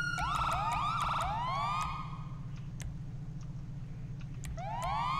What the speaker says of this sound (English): Oh, that one is definitely the default siren.